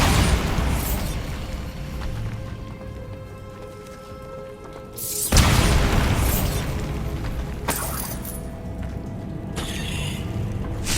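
A Bombarda blasting spell in Hogwarts Legacy goes off with a loud, sudden explosive burst, surrounded by ongoing magical and mechanical combat noise and a few further sharp impacts.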